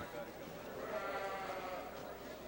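Lambs bleat faintly at a livestock show, a soft, wavering cry that carries on for a couple of seconds amid the quiet background of the arena.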